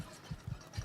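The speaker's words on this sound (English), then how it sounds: "I hate the heartbeat noise" Low-health heartbeat warning from Fallout 4, a few faint low thumps spaced unevenly across a brief moment, quiet and muffled with no talk over them.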